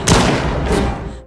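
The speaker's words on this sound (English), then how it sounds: "Nick suddenly opens fire" A loud, close burst of gunfire in a tense arrest scene, a heavy blast followed by a sustained booming rumble that rolls on for about a second before fading.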